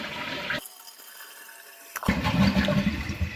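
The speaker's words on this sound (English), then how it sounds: "So for example, I'll flush the toilet." A household toilet tank flushes with a sudden loud whoosh of water after a brief quiet, then the rushing water and refill continue steadily, close by and with no talk.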